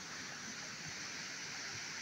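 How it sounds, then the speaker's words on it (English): A river weir and small waterfall in a valley near Upper Cwm Bridge, heard up close as a continuous, dense rushing roar of falling water, steady and unbroken throughout, with no talk over it. "that's the spot where we can get right next to the water, which hopefully you can hear now, a weir slash waterfall"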